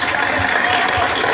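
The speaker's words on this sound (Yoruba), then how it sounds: "ẹ bá mi pàtẹ́wọ́ gbé wọn wá sórí" Dense audience applause at an Easter outreach, a steady wash of many hands clapping together at full volume throughout the short moment.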